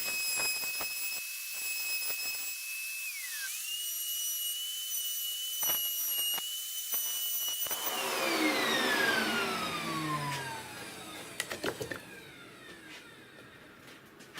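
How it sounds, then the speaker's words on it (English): A pantorouter cutting a hole through wood for a wooden watch, a loud high steady whine that drops in pitch as the bit bites deeper, then a few sharp knocks near the end. "I'm going to continue routing this hole all the way through"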